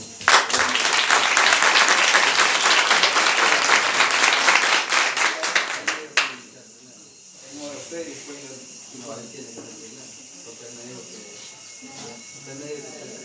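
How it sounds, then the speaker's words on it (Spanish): Audience applause for a speaker at a Catholic versus pastors church debate, loud sustained clapping for about six seconds that stops sharply, followed by someone talking quietly. "le damos un fuerte aplauso al hermano"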